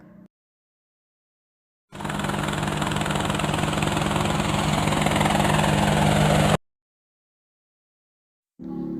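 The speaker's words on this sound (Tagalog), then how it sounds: "Helicopter." A helicopter's engine and rotor make a loud, steady droning roar with a low humming tone, lasting about four and a half seconds between short silences, with no talking over it.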